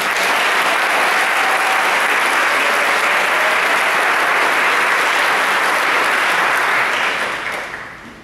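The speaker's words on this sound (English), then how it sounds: "So please give him a round of applause for that." Loud, dense applause from a concert audience at a high school spring band concert, a steady wash of clapping that holds evenly before fading away in the final second.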